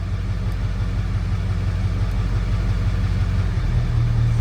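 A Ford 7.3L Powerstroke diesel idles steadily close by, a continuous low rumble with an even throb, its pitch sagging slightly near the end as the RPM dips.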